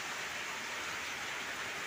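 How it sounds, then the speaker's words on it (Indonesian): Steady rain pouring down at a boat dock, a dense, even hiss of falling water with no pauses. "Hujan terus lagi, guys."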